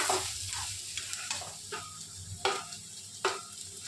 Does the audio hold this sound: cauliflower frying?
yes